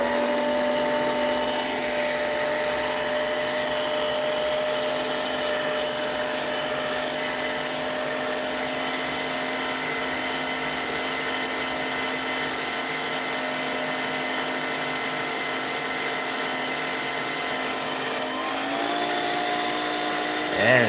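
A tuned race car runs on a dyno, giving a steady, loud, droning mechanical whine that holds nearly constant before shifting slightly near the end.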